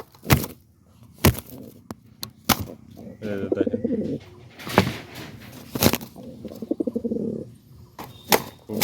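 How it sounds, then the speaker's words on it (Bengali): Lahori and cross-bred pigeons in a loft with their chicks give repeated low, throaty cooing phrases, close by, broken by sharp knocks and clatter from the coop. "ভালো মানের এগুলো কবুতর এগুলো"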